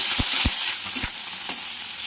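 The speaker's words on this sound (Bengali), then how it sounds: "ওই যে চিংড়ি মাছগুলো ভালো করে ভেজে উঠিয়ে নিলাম।" Shrimp frying in hot oil for a Bengali taro-leaf paste dish, giving a steady close sizzle with a few soft knocks of a utensil against the pan.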